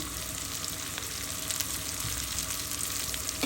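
Fish coated with turmeric powder and salt being stirred in a hot pan for a mixed-fish curry with potato, brinjal, radish and bitter gourd, giving a steady close sizzle and frying hiss with faint scraping throughout.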